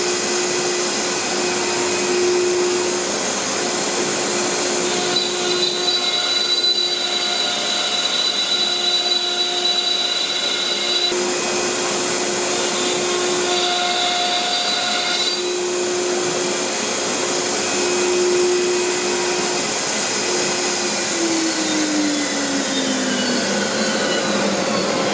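Machine, likely a CNC router, cutting parts from a half-inch sheet for a cabinet build, a loud, continuous high-pitched whine with shifting tones and a steady roar, no talking.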